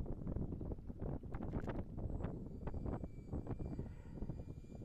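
A homemade RC flying wing in flight on its maiden outing, a buzzing electric motor whine heard through heavy wind noise on the microphone, fairly faint and fluctuating as it passes.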